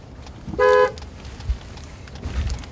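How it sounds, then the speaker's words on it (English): A single loud horn blast from a new 2015 aluminum Ford F-150 pickup during an end-of-line test at the Dearborn Truck Plant, followed by faint thumps and factory background noise. "And the horn works, so that's good."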